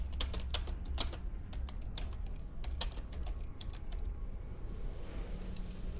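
Rapid keystrokes clack on a computer keyboard in uneven bursts, close and crisp over a low background hum, thinning out toward the end, with no speech.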